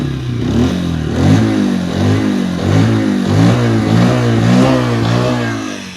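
A Honda SP 125 motorcycle is revved repeatedly with the throttle, its engine note climbing and falling in loud, close waves over several seconds, with no voices.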